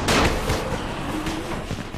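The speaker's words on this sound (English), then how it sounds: "There we go. Firecrackers." A burst of sharp pops and crackling firecracker bangs in the video game Dying Light, loud and close, crackles over a dense noisy backdrop.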